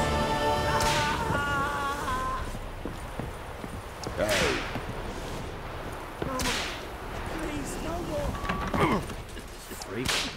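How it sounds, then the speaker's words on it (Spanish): Repeated whip lashes in The Witcher 3 role-playing game, several sharp cracks spaced a couple of seconds apart over a busy in-game background, with people talking throughout. "A ver, oigo los latigazos."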